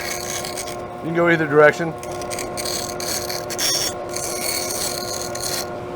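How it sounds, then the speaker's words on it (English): Wood is ground against the side of a running bandsaw blade in a workshop, a steady rasping rub over the machine's constant hum, with a person speaking briefly near the start. "We're just using the side of the blade to grind it off."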